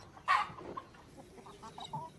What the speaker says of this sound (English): There's a chicken.